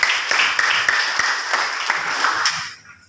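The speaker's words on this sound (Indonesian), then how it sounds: "Bagus sekali, berikan tepuk tangan." Classroom applause from students praising a classmate's answer, a burst of dense close clapping that fades out near the end, with a few sharp individual claps standing out.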